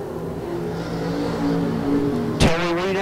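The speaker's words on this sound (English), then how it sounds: "Seven cars on the speedway." Several race cars roar around a dirt speedway during a heat race, a steady loud engine drone with rising revs and a sharp burst as one car passes close near the end.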